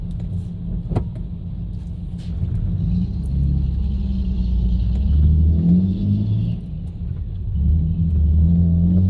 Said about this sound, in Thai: รถติดนะแถวนี้ รถบรรทุกผ่านมาหลาย